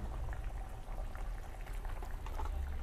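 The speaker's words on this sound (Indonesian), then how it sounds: "sudah mendidih" Beef meatballs in rendang spice from an instant seasoning mix bubble at a steady boil in a pot, a dense close simmering hiss with constant popping and crackling, no voices.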